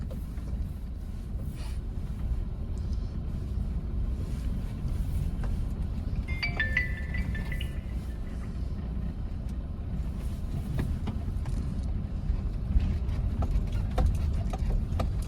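Car on a driving practice ground making slow steering turns, a low steady engine hum with faint tyre and road noise throughout, no talking.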